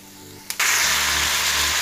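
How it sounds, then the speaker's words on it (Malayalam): A pan for mutton roast with curry leaves bursts into a loud, steady hiss after a sharp onset, the sizzle continuing strongly to the end. "നന്നായി ഇളക്കി കൊടുക്കാം കേട്ടോ."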